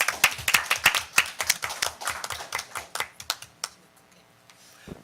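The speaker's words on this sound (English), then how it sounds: "So again, a round of applause." A small group at a town council meeting claps for a few seconds, the sharp claps close and uneven, then thin out and stop.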